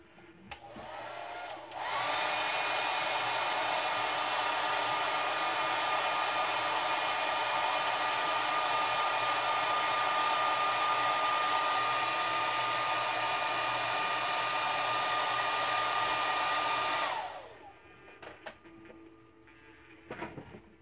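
A hair dryer drying blue paint on a prop magic wand runs loud and steady at close range for about fifteen seconds, its airy whine starting and stopping abruptly, with faint handling noises before and after.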